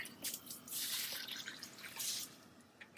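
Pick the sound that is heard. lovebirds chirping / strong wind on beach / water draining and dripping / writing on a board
water draining and dripping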